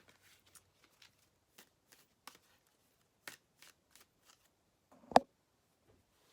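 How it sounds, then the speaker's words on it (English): Cards pulled and shuffled from an oracle deck, a series of soft, close, papery ticks and flicks spread irregularly, ending in one louder snap. "I'm going to pull from here just to finish out this reading."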